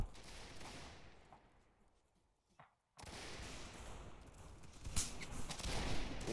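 Musket volleys in a Gettysburg battle game, a ragged crackle of distant shots that fades out, then resumes as a loud, sustained fusillade with sharp nearer reports.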